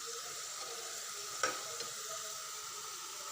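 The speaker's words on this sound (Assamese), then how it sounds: "বিলাহী আৰু খুতৰীয়া শাকখিনি অলপ ভালকৈ ভাজি লৈছোঁ।" Tomatoes and khutura greens frying in a pan give a steady close sizzle with a brief louder stir scrape in the middle, and nobody talks.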